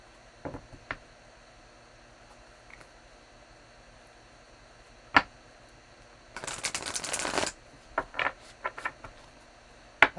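A deck of cards shuffled close by: a dense two-second riffle burst, then a few quick flicks and taps of cards over a quiet background hiss, with no voice.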